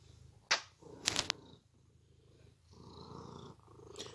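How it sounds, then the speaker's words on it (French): A large pet cat purring softly and steadily close by, a low continuous rumble with a few brief clicks and rustles over it and no talking. "C'est mon gros bébé qui ronronne."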